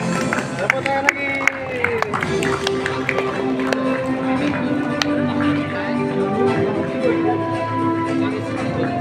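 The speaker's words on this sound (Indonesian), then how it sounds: "Tepuk tangan lagi." A crowd at a formal event claps again, with scattered sharp hand claps and a general murmur while a voice speaks over the applause.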